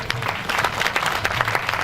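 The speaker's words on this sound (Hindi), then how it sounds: "एक बार इनके सम्मान में भी ताली बजा दो" Short burst of audience clapping at a Hindi comedy poetry gathering, brisk and fairly close, with a faint voice underneath.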